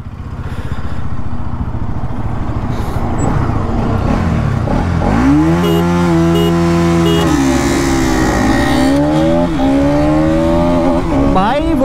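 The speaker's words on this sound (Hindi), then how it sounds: "मैं चला रहा हूँ बजाज पल्सर NS 200" A Bajaj Pulsar NS 200 and a KTM Duke 250 rev hard side by side in a drag race, their engine notes climbing and holding loud and close, with a gear change and wind noise as they pull away.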